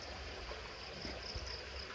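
Cold mountain water flows steadily through an irrigation channel on a banana farm, a continuous rushing hiss with a faint high insect-like whine, no voices.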